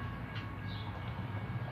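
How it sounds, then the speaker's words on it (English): A train rumbles in the distance near Dodge City, Kansas, a steady low drone held throughout with no voices over it. "there's a train coming."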